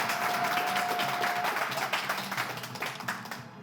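Studio audience applause on a French game show, a steady wash of many hands clapping at moderate level, fading toward the end with no talk over it.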